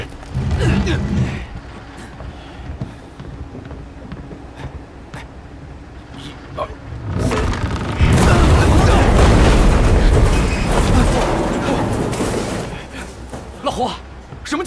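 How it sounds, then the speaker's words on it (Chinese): Heavy booms like cannon fire roll through a dramatic scene, with scattered thuds and pops, then a sustained loud rumbling blast that lasts several seconds, with short spoken lines around it. "我怎么听着像炮声？"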